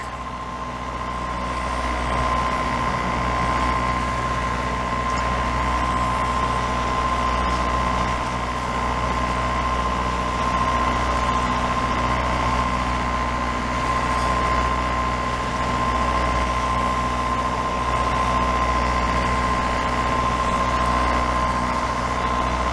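The inboard engine of a Formosa 41 sailboat motors into a rising wind, running with a steady, loud low drone and a constant mechanical hum. It holds unchanged for the whole stretch, with no talking.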